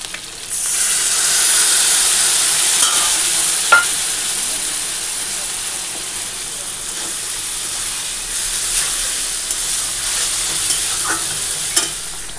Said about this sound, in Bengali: আলু আর বেগুন কেটে নিয়েছি, মানে ভাজা বসিয়ে দিয়েছি